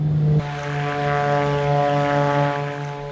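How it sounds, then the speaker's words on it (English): A steady mechanical whine with a strong droning hum holds at an even pitch, close and constant: the landing gear retraction motor of a Beechcraft Duke in a flight simulator. "Now you hear the motor retracting the landing gear."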